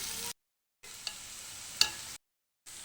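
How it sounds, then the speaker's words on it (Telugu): Onions frying in a pan for a mutton curry, a steady broadband sizzle broken by two short silent gaps, with a couple of faint clicks of stirring; no voices. "ఉల్లిపాయలు బాగా వేపేసుకోవాలండి"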